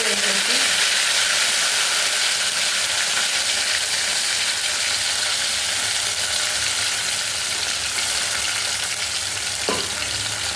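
Prawns, onions, cumin and fenugreek frying in oil in a pan for a tomato prawn curry, giving a steady, dense sizzle throughout with a faint stir or clink near the end.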